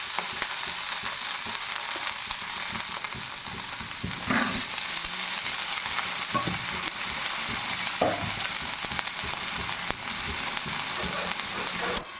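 Panch phoron spices and chopped beans and potatoes fry in oil for a vegetarian dish, sizzling continuously with occasional scrapes and clinks of a ladle stirring in a small pan, close and fairly loud, with no speech.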